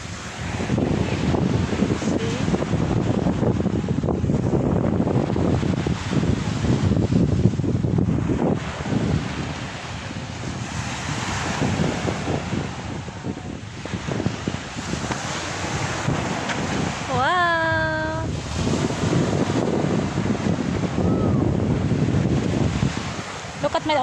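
Ocean waves and strong wind at Sholi Beach in Kuwait make a constant loud rush of surf mixed with buffeting wind noise on the microphone, with a brief tonal whistle partway through.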